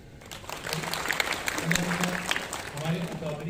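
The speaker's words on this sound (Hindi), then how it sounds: "एक दफ़ा तालियाँ बजाएं" Audience applause at a hijama symposium held in a hotel in Lahore, a steady wash of clapping from a crowd that lasts the whole stretch with a low voice heard faintly underneath.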